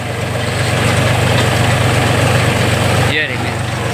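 A tractor engine idles steadily and close by with a deep, continuous rumble through the whole stretch, briefly dipping near the end.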